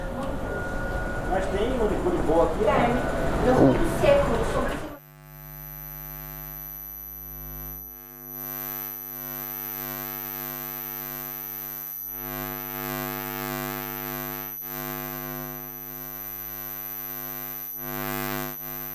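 Steady electronic humming tones from an electromagnetic field detector, recorded on a Zoom F6, with sustained buzzy harmonics droning on after a few seconds of noisy street talk and background bustle.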